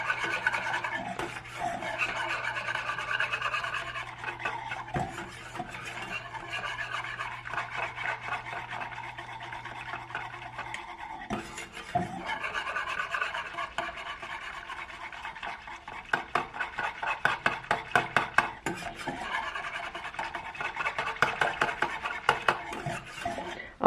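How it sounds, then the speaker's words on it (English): Chocolate gravy being stirred in a pan on the stove, a steady rasping scrape of the utensil against the pan bottom that continues for a long stretch, with sharper clinks and taps near the end and no talk. "You just gotta keep stirring."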